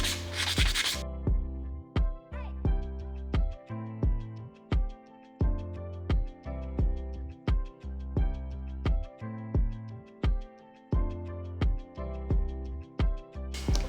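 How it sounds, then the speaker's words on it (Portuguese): Fine sandpaper is rubbed by hand over painted paper decoupage on a jar, making steady, rhythmic scratchy strokes that repeat in even bursts over a sustained tonal background. "eu vou usar uma lixa fina, que aí tira toda essa diferença e fica bem lisinho"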